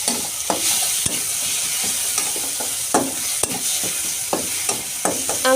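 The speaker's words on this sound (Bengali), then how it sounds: "একটু মিশিয়ে নিয়ে অল্প লবণ দিয়ে ভালো করে কষিয়ে নিচ্ছি।" Tomato with ginger, garlic, chili paste and a little salt sautés in a pan for a yam and prawn curry, giving a steady close sizzle broken by repeated scraping stirs of the spatula throughout.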